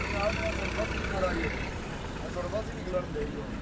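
A Millat tractor engine runs with a low, steady rumble throughout, and people talk over it.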